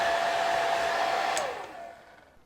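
Hair dryer running in a cruise ship cabin, a steady loud whooshing blow that cuts off and winds down to quiet near the end.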